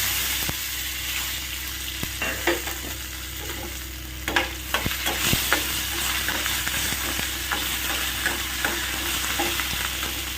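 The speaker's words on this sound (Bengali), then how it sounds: "কালো জিরে ফোড়ন দিয়ে দিলাম, দিয়ে এর মধ্যে দিয়ে দেব টমেটো," Tomato, green chili and ginger sizzle in oil tempered with nigella seeds while a spatula stirs and scrapes the pan in irregular clacks over a constant frying hiss, with no talking.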